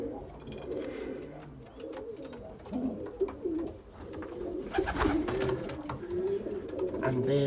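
Racing pigeons coo steadily in a loft, a continuous chorus of soft, throaty calls close by, with a brief human voice faintly underneath.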